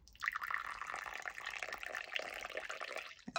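Tea is poured in one continuous stream, a close, bright liquid trickle lasting about three seconds before it stops, with no voices.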